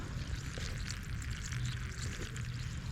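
Slightly brownish water runs out through a siphon hose from a hole, a soft continuous pouring and trickling with faint gurgles, steady and fairly quiet throughout.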